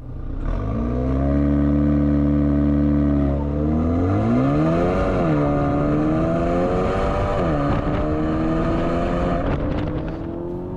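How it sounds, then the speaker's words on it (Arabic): A 2024 MG7 car accelerating with its exhaust valves open, a loud close engine note rising through the gears with clear pitch sweeps and shifts, steady and alone without talk. "فتحت صبابات العادم، صار في صوت، صار في صوت طربي ولو أنه بسيط"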